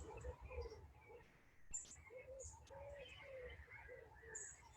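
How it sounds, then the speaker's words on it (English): Soft bird calls, including cooing notes, repeat at a moderate distance over a quiet room-tone background, with occasional brief chirps. "Perhaps you can hear the birds."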